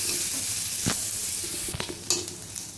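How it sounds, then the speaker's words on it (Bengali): Chopped onions frying in melted butter, a bright continuous sizzle with a few clicks and scrapes of stirring, close and without talking. "এখন এর মধ্যে আমি পেঁয়াজ কুচুগুলো দিয়ে দেবো। এটাকে আমি একটু বেরেস্তার মতো করে নিব।"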